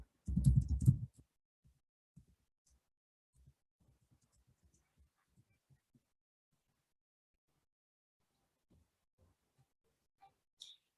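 Keyboard typing on a computer during a paper-issue software task: one loud thump opens, followed by sparse, faint, scattered key clicks in a quiet room.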